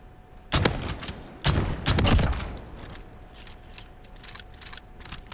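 Gunfire in Modern Warfare from an R9-0 shotgun loaded with slugs, a few heavy booming shots with clicky mechanical handling between, played over a constant game background hum; no talking.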